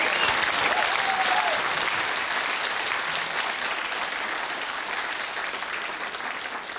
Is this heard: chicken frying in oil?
no